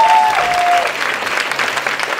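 Loud, sustained audience applause fills a hall during a championship participants' parade, a dense wash of clapping with a brief tonal beep early on and faint chatter beneath.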